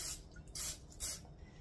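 Cooking spray can misting olive oil in three short hissing bursts, close and fairly loud, with brief pauses between them.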